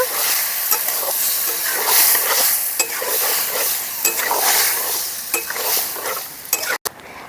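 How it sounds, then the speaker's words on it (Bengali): Spice paste sautéing with broccoli and potatoes in a pan: a loud, steady sizzle close by, broken by repeated scraping strokes of a spatula and clinks of metal against the pan. "ব্রকলি আর আলুর সঙ্গে মশলাটাকে ভালো করে কষিয়ে নেবো"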